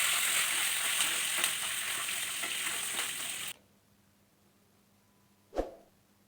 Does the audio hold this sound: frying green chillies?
yes